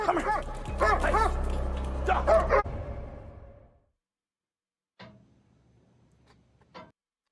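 A dog barks and whimpers in a short burst at the start, loud and close, then falls quiet before a few faint yips follow near the end.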